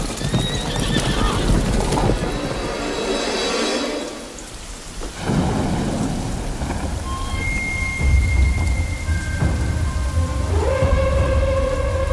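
Cavalry horses whinny and hooves pound over a heavy rumbling storm-like roar, with rain-like wash throughout and a few sustained high tones near the end.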